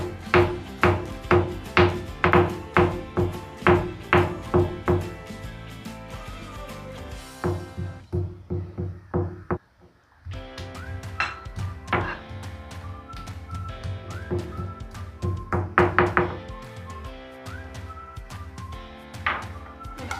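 Dried chilli, whole peppercorns and garlic pounded together for an egg fry: a steady run of about a dozen close, dull thuds for several seconds, with tonal ringing and further irregular knocks after a short pause.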